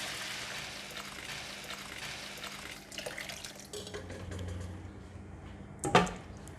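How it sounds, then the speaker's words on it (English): Water splashes into a soup pot of stir-fried chicken and corn among light kitchen clatter, ending with a sharp clank of metal cookware. "Now we're going to add in the water."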